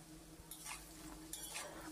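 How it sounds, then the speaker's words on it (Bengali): Lentil fritters (bora) sizzle steadily in hot oil for a vegetarian ool tok recipe, with two brief bursts of stirring or turning against the pan; a low constant hum sits underneath and no one speaks. "এটা প্রথম ব্যাচ আমি ভাজছি।"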